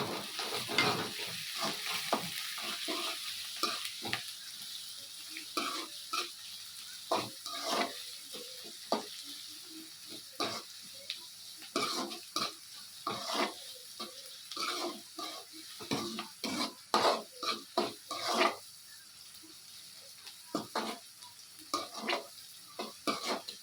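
Onions and coriander sizzle in a pan while a spoon stirs them, a soft continuous frying hiss broken by frequent scraping and clinking strokes, close and fairly quiet.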